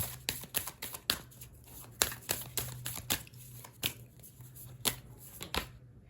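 A deck of oracle cards is shuffled by hand in a quiet room, making a repeated series of crisp riffling flicks and taps at an uneven rhythm, close and soft over a faint low hum.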